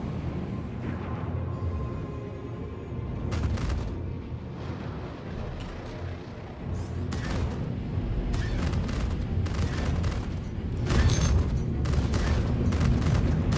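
A heavy cannon firing in a space sci-fi video game gameplay demo, with repeated sharp blasts and booming bursts over a constant low engine rumble, the firing becoming denser and louder in later volleys.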